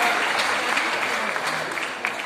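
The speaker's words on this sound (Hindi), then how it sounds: "आप सब लोग एक दूसरे के लिए ताली बजाइए" An audience of women at an International Women's Day event in Delhi breaks into sustained applause, a dense, even wash of many hands filling the hall, with faint voices beneath.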